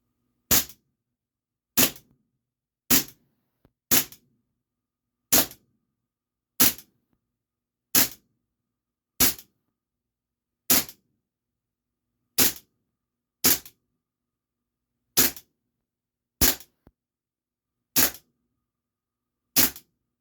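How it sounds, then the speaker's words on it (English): Luger P08 and P38 replica air pistols fire about eighteen sharp, evenly spaced shots at a target, each a crisp close crack with a short blowback clatter, no talking between them. "So I'll put the last 18 shots into that target."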